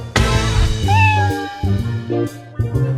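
A cat meows loudly several times, close by, over a low background hum.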